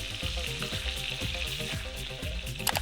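Chicken frying in a pot for a one-pot tribal chicken curry: a close, bright, continuous sizzle with rhythmic stirring scrapes repeating through, ending in a few sharper clatters.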